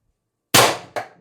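A suppressed air rifle with a 12-inch barrel and 6-inch Reaper suppressor fires one 10-gram shot at 1,000 psi, a sharp close crack followed almost at once by a second short, fainter impact snap, with silence before.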